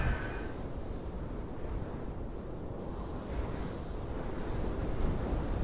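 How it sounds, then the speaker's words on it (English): Wind howling in an indie horror game, a steady low roar of rushing air with a soft surf-like wash, constant and fairly quiet with no voices. "Very windy."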